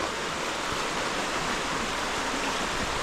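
A fast-flowing river in the Millers Dale and Chee Dale area rushes in a dense, steady roar of churning water, loud and close, with no talking.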